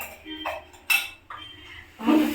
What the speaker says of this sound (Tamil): சுகர் ஸ்பூன் போட்டு கலக்கி அப்படி குடிச்சா நம்ம ஆறிடும்.